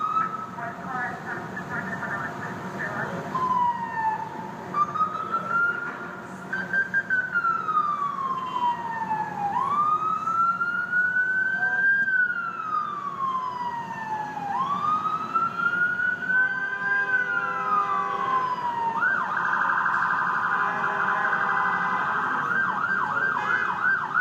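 An ambulance siren wails through traffic, sweeping slowly up and down in long repeated cycles at moderate distance, over a low road rumble, before switching to a faster pattern near the end.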